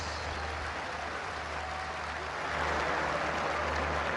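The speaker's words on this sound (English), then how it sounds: "Give them a big round of applause." A cricket stadium crowd applauds during a Peshawar Zalmi vs Karachi Kings PSL match, a dense, steady wash of clapping and crowd noise that swells louder partway through.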